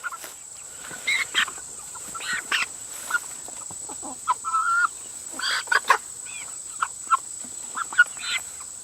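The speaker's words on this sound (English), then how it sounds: "I've got the Cornish cross and the slow-growing white broiler right here" Cornish Cross and slow-growing white broiler chickens cluck and murmur in short scattered calls over a steady background hiss, moderately close and without talking.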